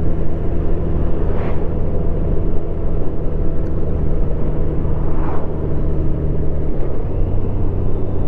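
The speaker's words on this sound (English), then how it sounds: "I just love this Goldwing." Honda Goldwing motorcycle cruising two-up with luggage on a quiet country road, a loud, steady low engine rumble blended with wind noise, continuous throughout with faint passing swells.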